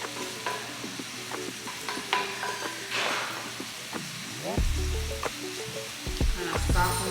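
Apples soften in a sizzling pan, a quiet frying hiss broken by stirring scrapes and utensil knocks, with background tones and a few louder thumps toward the end.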